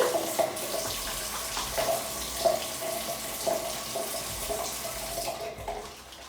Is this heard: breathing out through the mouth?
no